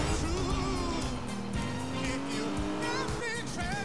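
A car engine in the racing video game Need for Speed Rivals, with engine tone and tire squeal sweeping up and down under in-game music and effects.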